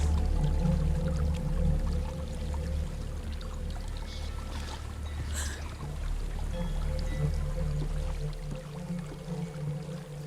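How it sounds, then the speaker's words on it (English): Waterfall in the video game Hellblade: Senua's Sacrifice, a constant rushing, pouring roar of falling water that stays loud and even throughout, with no speech. "There's a waterfall."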